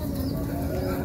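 A large male Showking show pigeon coos in a low, continuous rumbling burr, close and fairly loud, over a muffled background.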